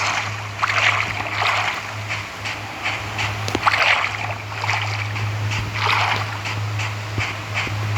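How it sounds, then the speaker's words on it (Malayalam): Splashing, sloshing footsteps wading through water in a survival game, steady and continuous over a low constant hum, with no talking. "വെള്ളത്തിൽ കൂടി ഇങ്ങനെ സൈഡിൽ കൂടി നടന്നു പോയി."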